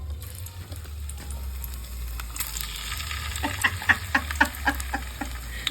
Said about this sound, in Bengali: আমি রোদ্দুরে গিয়ে ওখানে আলু ভাজছি